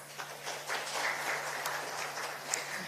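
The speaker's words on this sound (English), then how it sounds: "A large round of applause for all of our panelists." An audience applauds panelists at the close of a conference panel, a steady wash of clapping heard from a distance and fairly faint throughout.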